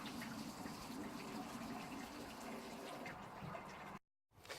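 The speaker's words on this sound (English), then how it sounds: "add some sparge water" Sparge water pouring into a beer mash during a saison brew day, a steady splashing gush of liquid at low level, cutting off abruptly near the end before a brief return.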